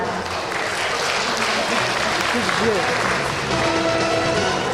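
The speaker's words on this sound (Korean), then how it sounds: "여러분 큰 박수로 맞아주시기 바랍니다" An audience at a Korean Couples' Day festival in Wonju applauds award-winning couples, a broad continuous wash of clapping with crowd noise and some voices mixed in, steady and fairly loud.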